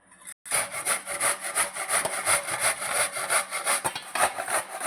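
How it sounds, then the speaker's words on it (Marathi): Raw green mangoes, already peeled, are grated on a large grater in a rapid, rhythmic series of rasping strokes, close and fairly loud, after a brief pause at the start. "आपण आता यांना किसणीने किसून घेऊया."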